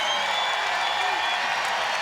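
A basketball crowd at Notre Dame's home senior night against Syracuse, a steady roar of cheering and applause filling the arena under a commentator's voice.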